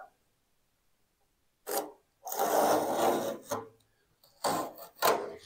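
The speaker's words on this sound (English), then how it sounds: "It will deburr the hole." A drilled hole in a NASCAR chassis being deburred by hand, heard as several short rasping scrapes in separate bursts after a quiet start, fairly close and moderately loud.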